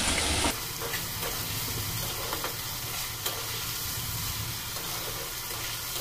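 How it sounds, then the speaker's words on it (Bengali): Ground onion paste frying in hot oil for a Bengali fish curry gives a dense, steady sizzle, with a sharper burst at the start and light stirring scrapes throughout, close and unaccompanied by speech. "ভাজা হয়ে যাওয়ার পর আমি তাতে দিয়ে দিচ্ছি বেটে রাখা পেঁয়াজটা"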